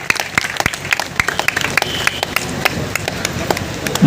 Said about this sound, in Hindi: ताली जो ताली बजा सकते हैं तो जोरदार ताली के साथ।